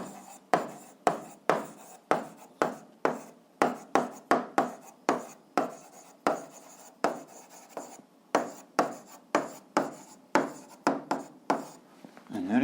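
Hand-writing a kinetic energy physics formula, heard as a rapid series of short, crisp scratching strokes with brief pauses between them. The strokes are close and clear, with no other sound.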